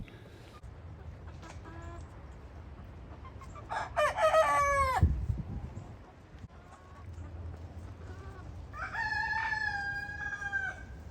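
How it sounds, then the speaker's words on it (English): A big white rooster on a farm crows nearby, two full cock-a-doodle-doos rising clearly over soft outdoor background noise and faint talk, with a clucking fowl call mixed in. "I hear this guy over here crowing."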